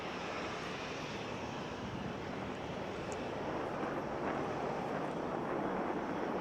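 A Canadair firefighting aircraft engine drones steadily in a broad, even roar, mixed with gusty wind buffeting the microphone, with no talk.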